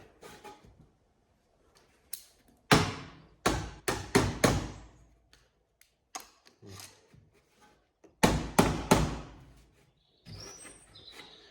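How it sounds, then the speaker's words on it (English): Sharp hammer taps on metal panelwork of a 1997 Classic Mini come in quick clusters, several bursts of two to five hits separated by quiet gaps, close and fairly loud. "give the sort of metal a bit of a tap"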